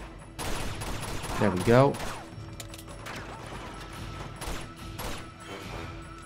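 A rocket launch and explosion in the video game Uncharted 2: Among Thieves, a loud whooshing blast followed by scattered gunfire and crashes, with a voice speaking briefly over it.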